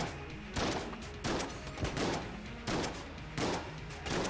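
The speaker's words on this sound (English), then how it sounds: "It's a counterfeit shotgun." A counterfeit shotgun in Enter the Gungeon fires about six sharp, punchy blasts at a steady, evenly spaced rhythm, each shot clear and loud.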